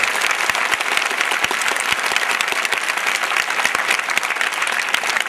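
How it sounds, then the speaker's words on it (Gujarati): A crowd gives loud, sustained applause for a group of young girls after their performance, a dense and continuous wash of clapping with no voices rising above it. "અમારી આ દીકરીઓને જોરદાર તાળીઓથી એમને સન્માન કરો બાપ."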